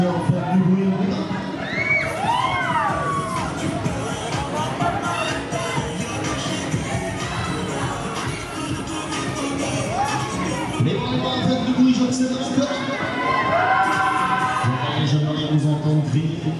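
A dense festival crowd at the Fête Jean de La Fontaine in Château-Thierry cheers, whoops and shouts continuously, children's high voices rising above the steady roar.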